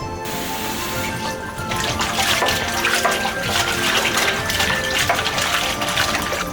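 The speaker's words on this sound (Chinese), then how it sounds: "放清水中清洗干净" Red choy sum stalks are rinsed in clean water, with continuous splashing, running and sloshing of water plus small clinks of handling close by.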